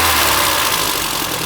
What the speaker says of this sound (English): There is more noise coming from the intake than from the exhaust.